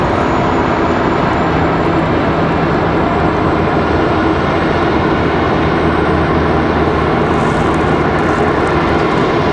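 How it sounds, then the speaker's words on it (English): Southwest airliner arriving at Raleigh-Durham International Airport from Denver, a loud, steady jet engine roar that holds throughout with no talk over it. "Southwest 1463 coming in from Denver, Colorado."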